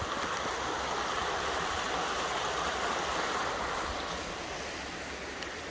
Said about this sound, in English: This is another little river section that's, I don't know what it is, but it's flowing into the Dee.